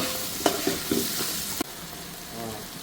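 Tomatoes fry with sautéed onions in a pan, a steady close sizzle punctuated by a few clicking scrapes of a stirring utensil.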